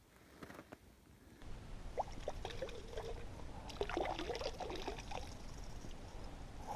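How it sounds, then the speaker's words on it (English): Water pours and trickles as a tin with a trace of beer left in it is rinsed and filled outdoors in snow beside open water: quiet at first, then uneven splashing and gurgling close by, with no talking. "So I'm going to go rinse this one out because there was just a trace of beer left in it, and then fill it up"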